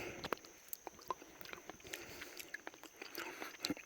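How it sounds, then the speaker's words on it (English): Ripe wild blackberries freshly picked from a bush being chewed close to the mouth, soft wet squishes and small smacking bites in an irregular rhythm, quiet and intimate. "a few ripe blackberries ready to munch on."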